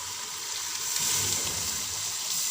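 Minced keema fries in its own juices in a pot with a steady soft sizzle and bubbling hiss, close and continuous with no speech.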